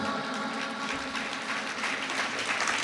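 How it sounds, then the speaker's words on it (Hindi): Crowd clapping steadily at a Jain religious discourse gathering, a dense, sustained patter of many hands that holds at an even level throughout. "ऐसे बच्चों के सम्मान में ताली नहीं बजाओ"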